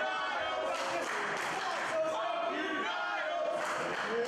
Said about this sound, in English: Crowd chanting "F you Niles."